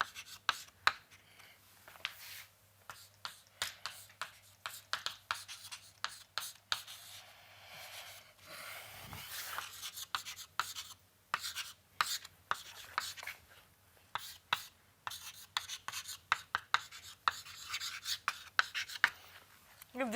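Chalk or pen scratching out math equations on a board in short, irregular strokes and taps, close and fairly quiet, with a faint low hum underneath and no speech.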